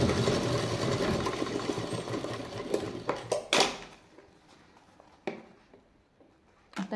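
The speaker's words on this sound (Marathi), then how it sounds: "त्याला पुन्हा आता आपण इथून शिलाई मारायची।" Sewing machine stitching a samosa-style bag, a steady close mechanical whir for about three and a half seconds, then stopping, followed by scattered clicks and handling knocks.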